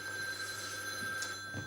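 A telephone rings indoors, a steady electronic ring running throughout at moderate level with faint background noise and no speech.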